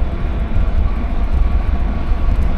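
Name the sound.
train overtaking on nearby railway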